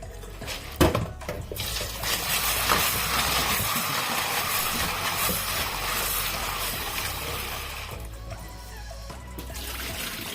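Irish potatoes are washed in water in a pot, giving continuous close splashing, sloshing and the clatter of potatoes and cookware for about ten seconds, loud and without talk.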